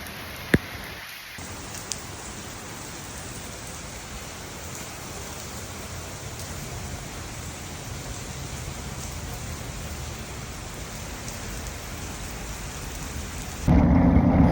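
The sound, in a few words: heavy rain with thunder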